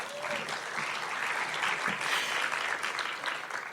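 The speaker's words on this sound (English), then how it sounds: "Another applause for Denise." Audience at a live storytelling show at a library claps steadily, a dense burst of applause from a crowded room filling the whole moment with no talk over it.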